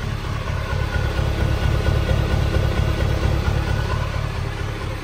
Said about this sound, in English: The truck is back together and working.